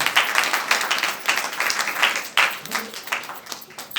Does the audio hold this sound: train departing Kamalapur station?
no